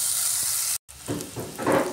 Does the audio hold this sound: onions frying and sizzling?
yes